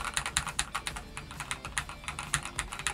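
Rapid typing on a tenkeyless (TKL/80%) mechanical keyboard with hot-swap sockets and north-facing switches: dense, evenly paced clacky keystrokes, close and steady, with no voice.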